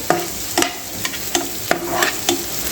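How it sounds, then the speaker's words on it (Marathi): A spoon scrapes and stirs onion and tomato in a pan in a steady rhythm of sharp knocks about every half second, over a continuous low sizzle of frying in oil, close up with no talking. "कांदा आणि टोमॅटो आपला व्यवस्थित भाजून घेतलेला आहे"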